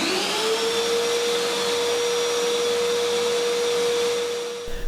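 A TACKlife PVC05B wet/dry vacuum runs loud and close, a steady airy roar over a constant motor whine, easing slightly just before the end with no one speaking.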